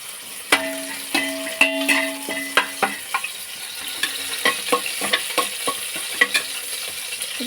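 Onions fry and sizzle in a pan for bagara rice while a utensil stirs them with repeated sharp scrapes and clinks, steady throughout at close range, with no talking.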